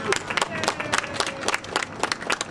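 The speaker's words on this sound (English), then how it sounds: "So I'm going to give you a round of applause" Applause from an audience at a city literacy program event, a steady patter of many hands clapping in a room with crowd murmur underneath.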